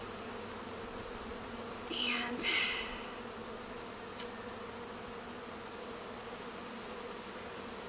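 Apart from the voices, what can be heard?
honey bees buzzing in an open hive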